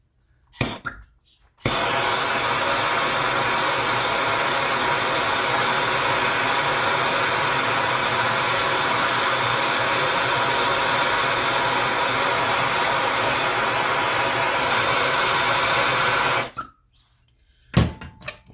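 A stuck part on the exhaust manifold of a 1974 Dodge D100 with a 225 Slant 6 is heated, a loud, steady roar lasting about fifteen seconds, bracketed by brief handling noises before and after.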